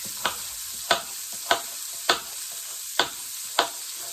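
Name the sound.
tofu stir fry sizzling in a pan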